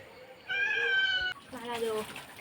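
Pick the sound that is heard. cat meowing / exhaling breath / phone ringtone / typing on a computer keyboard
cat meowing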